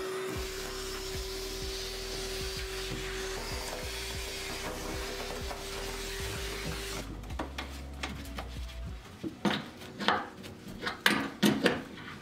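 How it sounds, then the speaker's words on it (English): A hoover runs aboard a sailboat being refitted, a steady droning hum for about seven seconds before it stops, followed by a few bumps and knocks of tidying up. "I'm just going to tidy up a bit and hoover up a lot of this mess that I've made"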